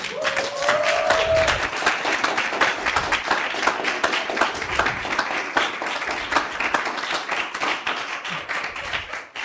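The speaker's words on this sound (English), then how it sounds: "can we all stand up and give a round of applause to our HR team?" A standing audience applauding the HR team at a live-streamed event: sustained, crisp clapping from a sizeable crowd that carries on steadily for the whole stretch, with a brief voice heard near the start.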